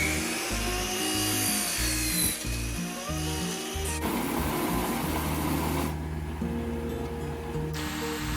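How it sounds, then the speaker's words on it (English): A bandsaw and a miter saw cut wedges from wood, giving steady rasping, whirring cuts that run continuously at close range with a sharp change in tone partway through and no talking. "I cut out the wedges at the bandsaw and cut the length at the miter saw"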